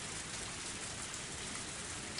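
Torrential rain in the Higurashi When They Cry Hou game, a dense, steady hiss of downpour that fills the whole stretch evenly without any talking.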